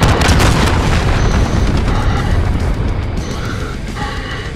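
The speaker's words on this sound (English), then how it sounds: "Enemy cruise missile incoming." A cruise missile strike explodes in Call of Duty: Modern Warfare, a loud, dense rumbling blast that fills the whole clip and rolls on without a break before easing slightly.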